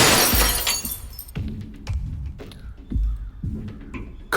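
Window glass smashing and shattering, a loud burst of breaking glass with crashing debris and scattered tinkling shards that trail off in several follow-up impacts.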